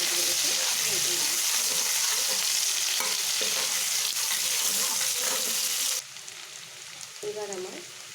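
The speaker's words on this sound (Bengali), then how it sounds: "এবার ভালো করে পেঁয়াজগুলোকে ভেজে নেব।" Finely chopped onions frying in a pan for an aar fish curry: a loud, dense sizzle with stirring for about six seconds, then a sudden drop to a softer frying hiss with a few clatters.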